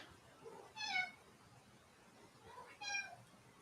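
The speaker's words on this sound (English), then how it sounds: "It's literally my cat." A house cat meows twice, each a short, high, wavering call spaced a couple of seconds apart, faint and fairly distant against quiet room tone.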